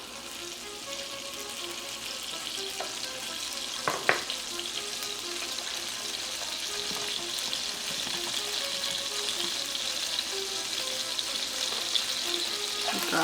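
Garlic and butter fry in a pan for chicken goulash, a steady close hiss and crackle that grows slightly louder, with a single clink partway through and no talking.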